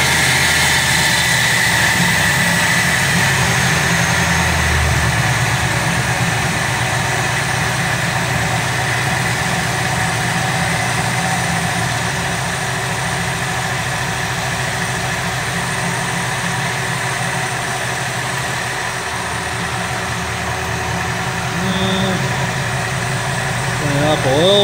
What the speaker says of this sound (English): we're gonna go crank the idle back down